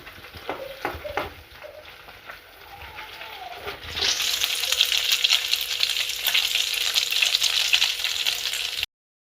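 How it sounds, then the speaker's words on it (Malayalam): Garlic drops into hot sunflower oil in a pan: a few soft clinks and stirring scrapes at first, then a sudden loud, sustained sizzle that continues steadily to the end. "ആദ്യം വെളുത്തുള്ളി ഇട്ട് കൊടുക്കുകയാണ്"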